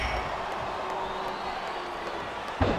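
Arena crowd noise from the WWE SmackDown vs Raw 2008 video game, a steady broad roar of a capacity audience at a Jeff Hardy vs Mr. Kennedy singles match, with a brief louder burst near the end.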